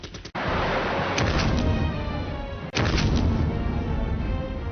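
Bombs exploding during a 1956 air raid on Cairo: two heavy booming blasts, one near the start and one after about two and a half seconds, each trailing into long loud rumbling.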